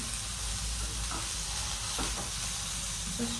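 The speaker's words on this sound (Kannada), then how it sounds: "ಗೋಲ್ಡನ್ ಬ್ರೌನ್ ಆಗುತ್ತೆ ಅಲ್ಲಿವರೆಗೂ ಫ್ರೈ ಮಾಡಿ" Maida-coated paneer pieces frying in a pan, a dense, steady hiss of hot oil heard up close, with a few faint clinks as the pieces are turned.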